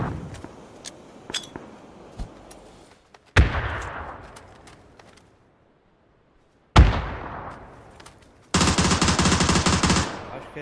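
Video game gunfire: scattered single shots, two loud blasts with long decaying echoes, then a sustained rapid burst of automatic fire near the end.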